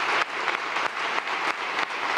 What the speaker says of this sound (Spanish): Escuchamos de fondo estos aplausos